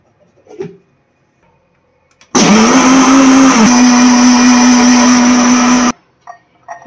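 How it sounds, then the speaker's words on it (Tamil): A mixer grinder blends coffee powder, sugar and ice cubes, starting abruptly with a loud, steady motor whine that holds for about three and a half seconds before cutting off, with faint kitchen sounds before and after. "காஃபி பவுடர், ஐஸ் கியூப், இதை ஒரு தடவை மிக்சியில் அடித்து எடுத்துக்கிறேன்"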